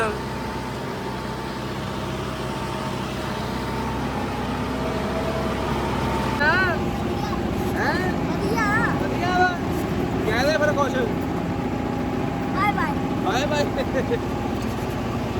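A tractor engine runs steadily in first high gear at 2000 rpm with a low, constant rumble. A voice speaks over it in the second half.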